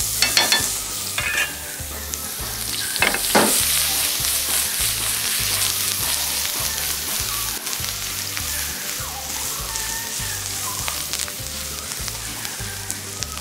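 Onions sizzling in oil in a pan while being stirred, a continuous close hiss of frying with rapid rhythmic scraping and clattering strokes throughout and a few louder crackles early on, no voices.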